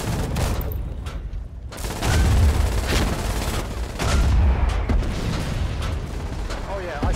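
Artillery shelling in the Foxhole war game at Iron Junction, Endless Shore: dense, rumbling blasts and impacts rolling continuously with heavier booms around two and four seconds, while voices talk over the barrage.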